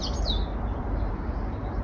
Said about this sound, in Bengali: পাখির ডাকগুলি শুনতে অনেক ভালো লাগে। আমি কাজ করি আর পাখির ডাক শুনে।